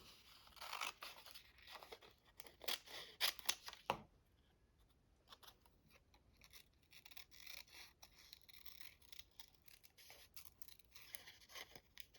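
Small scissors make crisp snips close by while fussy cutting paper for a journaling page, a busy cluster of cuts first and then scattered, quieter snips and paper rustles.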